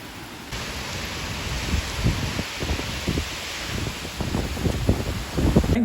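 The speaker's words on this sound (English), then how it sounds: "Listen to the wind blowing in here." Wind gusts and rain batter a sunroom with six windows, a steady broadband rush that swells in irregular surges, with soft rattling bursts strengthening toward the end; no voices.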